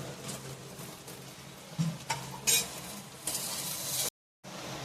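Dry grated coconut roasting with onion in a pan for misal, a soft steady sizzle with scraping stir strokes and a few clinks, close and fairly quiet, broken by a brief silence near the end.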